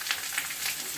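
Onions and green chillies sautéing in a pan for tomato thokku, a steady soft sizzle with a few faint stirring pulses, fairly quiet and without talk.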